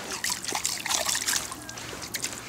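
Water trickles and splashes softly nearby in brief irregular bursts as a fish hook is rinsed by hand while frog fishing.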